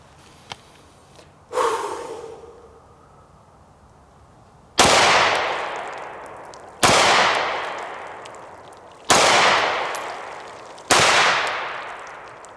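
Four sharp, loud pistol shots fired with Remington ammunition at a range, spaced about two seconds apart, each followed by a short decaying echo, after a quieter opening thump.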